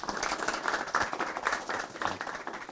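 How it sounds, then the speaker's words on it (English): Audience applause welcoming a university professor to the lecture podium, a steady wash of many hands clapping at moderate distance, continuous for a few seconds with no voices over it. "Please welcome Professor Parrillo with a big round of applause."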